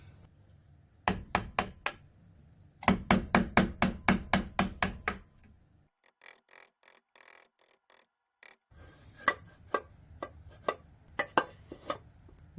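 Repeated sharp mallet strikes on a wood chisel clearing out the bottom of a cut in a wooden workbench front leg, coming in quick bursts of eight to ten blows with brief pauses, close and loud with no talking.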